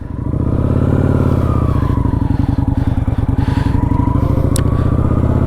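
A Kawasaki Vulcan 900 cruiser motorcycle pulls away on a wet road, its V-twin thumping in a steady, loud, close pulsing throb that rises and eases as it rides off, with no talking.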